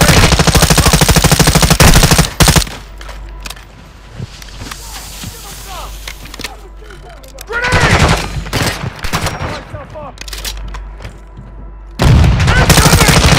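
Sustained automatic gunfire from a Call of Duty: Modern Warfare II match, loud and near, coming in dense bursts at the start, mid-clip and end, with quieter stretches of footsteps and voices talking between the volleys.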